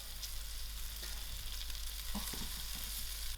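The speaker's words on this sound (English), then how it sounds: "I'm going to add in my herbs so you can fry out a little" Thebe herbs fry in a pot of oil with mixed masala and turmeric, a steady close hiss of sizzling with a few soft stirring knocks partway through.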